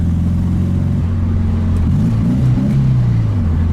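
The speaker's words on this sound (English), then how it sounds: "It's not loud, it's got a little bit of throaty sound." A 1965 Karmann Ghia engine pulls in third gear with a steady, low, throaty drone at moderate speed, its pitch shifting slightly partway through, heard close and continuous without talk.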